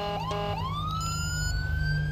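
A police car siren, the Whelen and Sencom Red type, in the video game GTA V wails in a steady rising sweep, loud and close, with a low engine rumble beneath and no speech.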